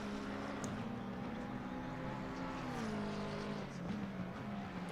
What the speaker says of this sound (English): Listen to the cars go over the top of you.